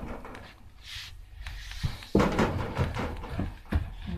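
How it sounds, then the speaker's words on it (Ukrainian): A household door jerked and rattled, giving a few close, sharp knocking bangs and rattles in quick succession over a quiet room background. "Що таке дергаєш тими дверями?"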